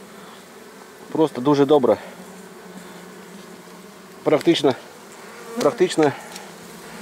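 Honey bees buzz around a hive of forest honey, mostly as a soft background hum under a voice speaking in three short bursts.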